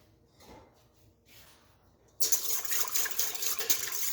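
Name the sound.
hot water poured into a bowl for blooming yeast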